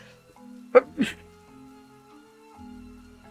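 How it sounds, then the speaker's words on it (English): A single person's sneeze bursts out in two quick sharp blasts close to the microphone in a quiet indoor room, followed by a faint low hum. "I feel a sneeze."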